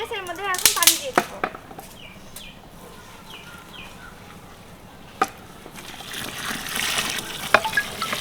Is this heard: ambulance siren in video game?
no